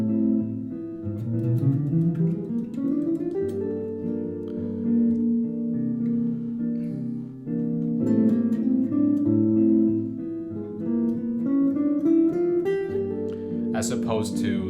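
An eight-note scale from the harmonic major family played on an instrument, clear pitched notes stepping up and back in a steady run, close and moderately loud with no voice over it.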